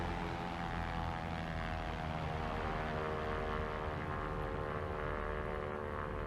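Steady propeller drone of a red and white Cessna in a flight simulator game, a constant even engine hum with no talk over it.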